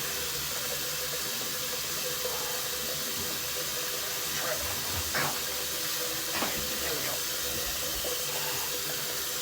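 Tap water running steadily into a sink while someone rinses off after a shave, a constant hissing flow with a few brief splashes as hands move through the stream.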